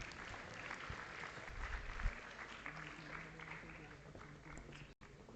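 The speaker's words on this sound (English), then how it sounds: "Huge round of applause, please." Audience applauding at an award ceremony for runners-up, a steady wash of clapping with a few louder claps and some murmuring in the background, moderately distant.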